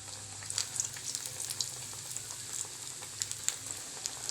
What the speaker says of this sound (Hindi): अब ये फ्राई कर रहे हैं।